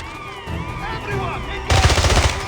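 Automatic gunfire from the video game James Bond 007: Blood Stone, a dense loud burst that erupts over an action soundtrack and shouted voices near the end.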